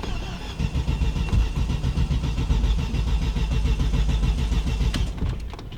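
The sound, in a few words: Audi A4 engine cranking and starting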